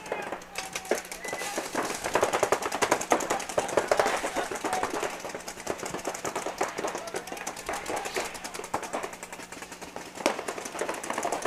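Paintball markers fire in dense rapid bursts of sharp pops during a tournament match at an indoor arena, a constant crackle of shots carrying over crowd noise with voices talking throughout.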